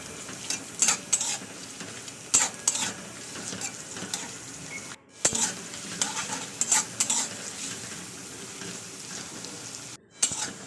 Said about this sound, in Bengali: বড় কড়া বসিয়েছি বড় বসিয়ে একটু তেল দিয়ে দিলাম দিয়ে পেঁয়াজটাকে দিয়ে দিলাম পেঁয়াজটা দিয়ে একটু লাল করে ভেজে নেবো